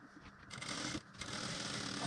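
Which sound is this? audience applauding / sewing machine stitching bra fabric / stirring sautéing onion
sewing machine stitching bra fabric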